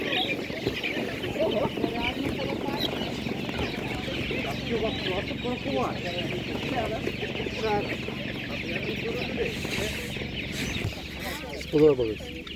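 Chickens cluck steadily and loudly at an open-air poultry market in Otynia, Ivano-Frankivsk region, western Ukraine, with a brief rooster-like call near the end and scattered voices of people talking underneath.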